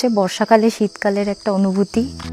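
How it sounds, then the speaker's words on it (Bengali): Crickets chirp in a steady high drone on a quiet, misty monsoon hillside at Mainpat in Chhattisgarh. The chirping continues under a person speaking close by. "নিশ্চুপ পরিবেশ ও সাথে ঝিঝি পোকার ডাক"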